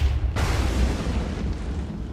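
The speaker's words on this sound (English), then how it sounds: "it's just the explosions" A deep, rumbling explosion erupts in a Minecraft Titans mod game, a sudden loud boom followed by a sustained roaring wash of noise.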